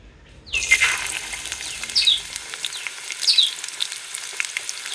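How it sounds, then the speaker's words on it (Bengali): Chopped onions hit a hot karahi and fry with a loud, steady sizzle that starts abruptly and carries on evenly, with faint stirring scrapes over it and no voices. "পেঁয়াজগুলো লাল লাল করে ভাজে নিব"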